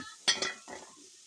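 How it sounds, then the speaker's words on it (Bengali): Mixed vegetables seasoned with salt, turmeric and chili powder are stirred and fried in a pan, making a few brief, faint scraping strokes with a soft sizzle in an otherwise quiet moment. "এই তো আবারও ভেজে নেব একটু নেড়ে চেড়ে।"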